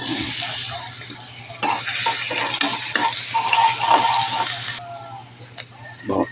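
Garlic frying in canola oil for a Filipino breakfast gives a steady hiss, with louder stirring and scraping bursts and a low hum underneath; no one talks.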